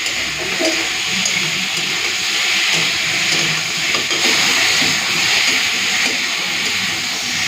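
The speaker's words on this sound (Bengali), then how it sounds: "ভালো করে একটুখানি মশলাটাকে ভেজে নিই যাতে কাঁচা গন্ধগুলো চলে যায়" Spices frying with potato and pointed gourd in a pan give a loud, constant hissing sizzle, close and unbroken across the whole stretch.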